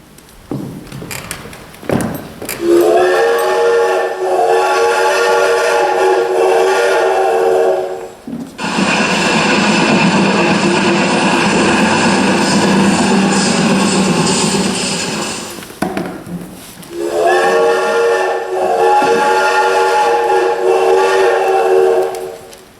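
A train on the line to Winchester, with a drawn-out whistle at the start and again at the end. In between comes a loud, steady rumble and clatter of the train running.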